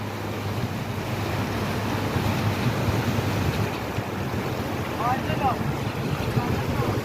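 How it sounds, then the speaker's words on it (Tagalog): Steady, loud rush of a turbulent river fills the whole clip, with a constant broadband roar and gusty wind buffeting the microphone. "At ito yung ilog. Galit na galit pa yung tubig."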